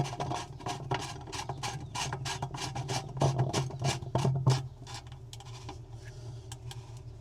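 Rhythmic plastic-on-plastic rasping as a drain plug is screwed into a Jandy CS pool cartridge filter by hand. Repeated short scraping strokes come close and clear, then quieter clicks at the end, with no talking.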